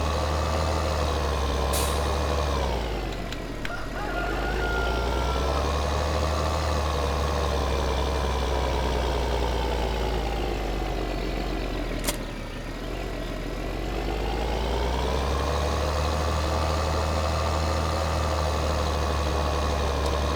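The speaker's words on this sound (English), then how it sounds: "must be the milk truck" A milk truck in Farming Simulator 2013 runs with a steady, loud engine drone throughout, with sharp air brake hisses near the start and again midway as the engine note dips and recovers.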